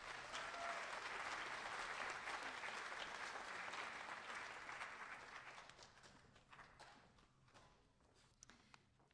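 An audience at a North Scott agricultural program spring banquet applauds new Green Hands members, and the dense, even clapping gradually thins and fades out.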